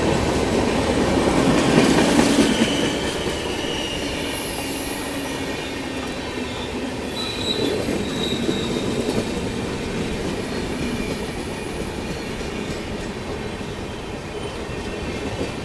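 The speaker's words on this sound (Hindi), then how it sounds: "यहाँ पर पुणे सुपौल एक्सप्रेस ओवरटेक कर रही है" The Pune Supaul Express overtakes the Patliputra Superfast Express on the next track, a loud continuous rumble of rolling wagons with rhythmic clatter and occasional wheel squeal, heard from inside a 2AC coach.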